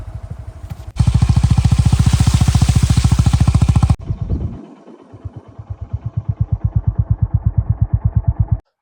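A motorcycle engine revs loudly with a rapid, throbbing putter, drops off briefly, then idles back up with steady pulsing chugs close by.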